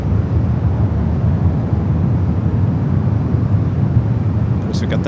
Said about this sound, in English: United Dreamliner heading over here to the ones.